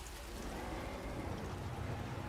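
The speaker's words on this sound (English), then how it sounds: "Is that, like, the amount of rain that's coming down?" Steady rain falls in the video game Death Stranding 2, a constant, even hiss of drops with no letup and no voices.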